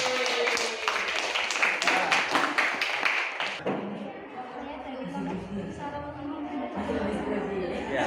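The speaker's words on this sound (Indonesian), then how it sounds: "beri tepuk tangan untuk kelompok 4" A classroom group claps for group 4 in a rapid, dense burst over the first few seconds. The applause cuts off sharply and is followed by softer room chatter and movement.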